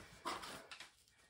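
A freshly bathed, still-wet dog gives a brief, soft whimper up close indoors, followed by a couple of faint, quick sounds.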